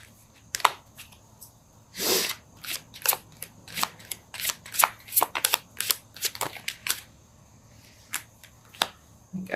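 Tarot cards are shuffled in a series of quick, irregular riffles and flicks, close up, with soft pauses between bursts.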